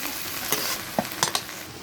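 Bottle gourd greens sizzle steadily in a hot pan while being stirred, a continuous close frying hiss broken by a few sharp scraping clicks of the spatula.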